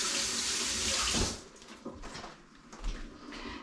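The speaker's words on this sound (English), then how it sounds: "We wash our hands a lot in this kitchen" Hands are washed under a kitchen sink tap: water gushes steadily for about a second, then cuts off, leaving quieter wet handling and faint movement nearby.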